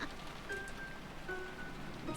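Steady rain in the visual novel Umineko, a faint, even patter under soft background tones with no other sounds.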